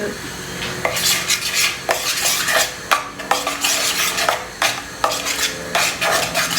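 Onions cooking in a pan for an egg curry, with a utensil repeatedly scraping and clattering against the metal pan in short irregular strokes over a steady close sizzle; no talking.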